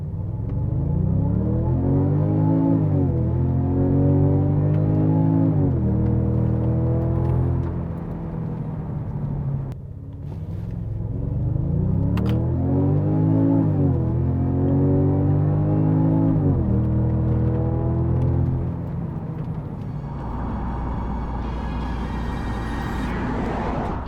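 A Genesis G70 Shooting Brake accelerates hard from 0 to 100 km/h, its engine note climbing through rising gear sweeps with brief drops at each shift, loud and close, then settling into a steady cruising rumble.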